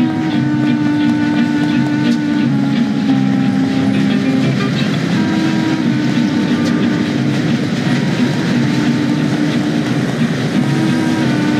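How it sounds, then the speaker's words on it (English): A train ride in the video game Mafia gives a loud, continuous rumble of rolling rail wheels with a steady rattle and hum from the carriage, close and constant throughout. "I'll take the train."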